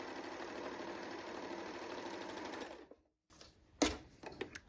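A self-threading serger runs steadily along a fabric seam with a fast, even whirring chatter, stops abruptly, then gives a short clunk and a few quieter ticks and handling noises.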